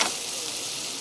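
Food sizzling steadily in hot olive oil in a pan, a close, even hiss with no talk.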